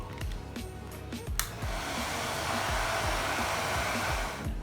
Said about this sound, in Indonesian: kemudian kita keringkan dengan hair dryer.